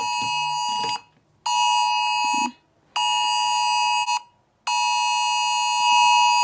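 Loud electronic test alarm tones blaring in repeated bursts of about a second, with short silent gaps between them, several phones sounding together indoors in Germany.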